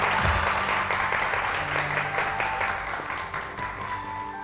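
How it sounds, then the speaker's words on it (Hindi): A studio audience at a TV show applauds a guest, a dense, continuous round of clapping that stays strong and gradually eases slightly toward the end. "तालियां बजाइए इनके लिए"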